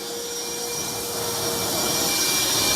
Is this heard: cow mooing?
no